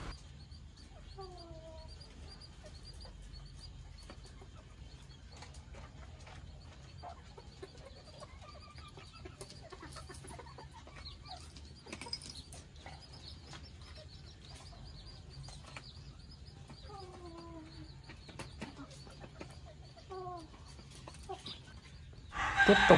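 Thai game roosters penned for sale, giving faint, scattered crows and clucks at a distance over a steady low background hum, with a louder rustle at the very end.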